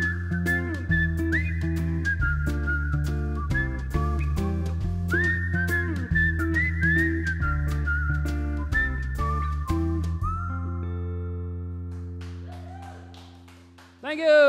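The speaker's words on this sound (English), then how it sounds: "Do the whistle with me." Melodic whistling follows the tune of a song, clear sustained notes over a steady accompaniment with a bass line, continuing for most of the clip before the music thins out and ends.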